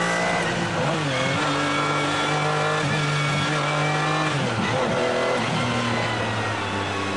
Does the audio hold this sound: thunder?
no